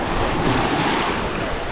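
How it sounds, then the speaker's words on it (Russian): Ocean surf rolls onto a beach on Ko Lan island off Thailand, a loud continuous wash of breaking water mixed with wind buffeting the microphone, with no voices. "Мы уже вот-вот подошли к океану."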